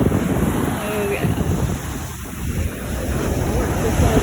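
Rough ocean surf rolls onto a hot, humid beach under gusting wind that buffets the microphone, a continuous loud wash of waves and wind noise.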